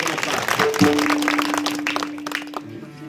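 Brief burst of audience clapping at a kirtan, a dense patter of hands with a sustained harmonium-like tone and voices mixed underneath.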